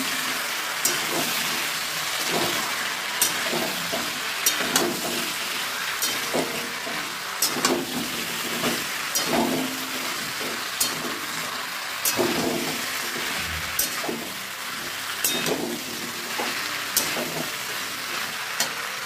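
Curry with meat masala sautéing in a pan gives a constant sizzle and fry, broken by frequent scraping and clacking stir strokes at an irregular pace, close and clear with no talking.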